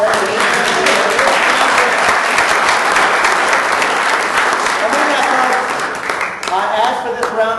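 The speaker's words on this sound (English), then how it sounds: "Can we now get a round of applause for everyone?" A large crowd at a political rally gives loud, sustained applause for public school teachers, steady clapping throughout with cheering voices rising near the end.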